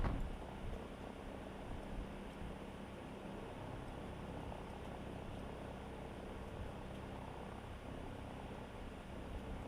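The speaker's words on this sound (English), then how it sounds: "Friendly helicopters entering the area." Friendly helicopters flying in a combat video game, a steady low rotor and engine drone that stays even and fairly faint throughout, with no voices over it.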